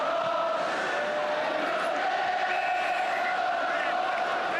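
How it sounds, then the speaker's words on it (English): Crowd of Chelsea supporters roaring and chanting at a 1972-73 football match against United, a dense, steady wall of voices with sustained vocal tones, continuous and loud throughout. "Those are the Chelsea supporters."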